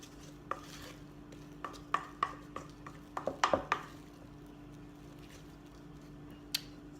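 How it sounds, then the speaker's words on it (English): Spoon stirring microwave mashed potatoes in a bowl, a series of faint, scattered clinks and scrapes against a low steady background hum. "I'm going to mix it in real good, just with a spoon."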